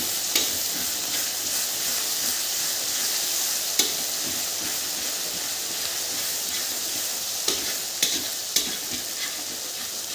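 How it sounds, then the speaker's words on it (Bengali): Ginger garlic paste sizzles steadily in hot oil in a wok, a loud continuous frying hiss broken by a few sharp taps of stirring. "আদা রসুন পেস্ট দিয়ে দিয়েছি। এবার এটাকে এখন আমরা মোটামুটি ভেজে নেব।"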